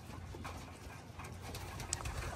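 Pigeons or doves coo steadily at close range over a soft outdoor background, the calls overlapping in a loose, continuous rhythm for a couple of seconds, just after a group of birds has been released.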